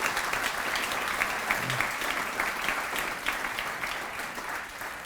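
An audience at a Women's Roll of Honor breakfast applauds steadily, with dense, even clapping that holds throughout.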